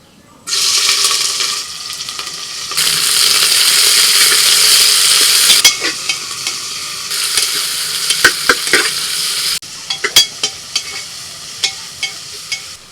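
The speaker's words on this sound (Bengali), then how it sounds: "ফোড়ন ভাজা হয়ে গেছে দিয়ে দিচ্ছি পেঁয়াজ কুচি" Chopped onion hits hot oil and fried spices in a pan, bursting into a loud, steady sizzle that later settles while a spatula scrapes and clacks against the pan in repeated strokes, with no talking.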